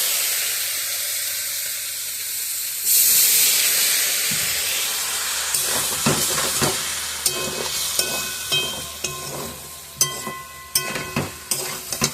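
Curry cooking in a pan on a home stove, a steady hiss and sizzle that swells partway through, later joined by clinks and scrapes of stirring utensils, close up.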